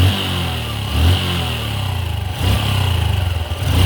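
A motorcycle engine idles and revs at a steady pitch with a mechanical clatter, rising briefly a couple of times, loud and close in a repair shop during a voltage regulator test.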